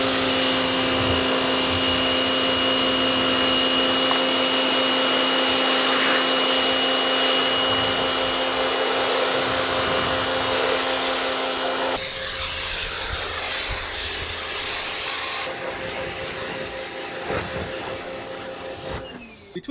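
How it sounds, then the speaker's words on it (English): A loud, continuous hiss of a pressure washer spray rinsing a Scion xB car runs steadily for about twenty seconds, its tone shifting partway through as the nozzle moves. "hit on your spray nozzle and wash it off"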